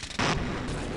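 Bullets ricochet off surfaces in the shooter game Half-Life MMOD, a loud, sharp burst of gunfire and impact noise that leaps up abruptly and rings on through the rest of the second.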